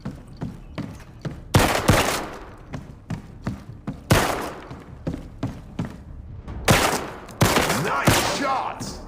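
A .50 caliber gun fires in a video game shooting range, loud close reports in uneven single shots and quick bursts, each ending in a short rumbling tail.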